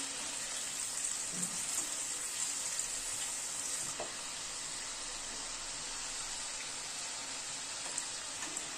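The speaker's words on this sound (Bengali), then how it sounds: "আলুগুলোকে লাল করে ভেজে নিলাম, প্রায় মিনিট 2 সময় ধরে আলুগুলোকে ভেজে নিলাম।" Potato wedges deep frying in hot oil over a high flame, a constant dense crackling sizzle with faint stirring, close and even throughout, no voices.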